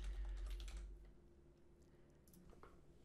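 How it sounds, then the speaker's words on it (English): Quiet keystrokes tap on a computer keyboard while details are entered into an online order form, a soft, scattered run of clicks with a light background hum. "we would just type in as if we were coming to the page"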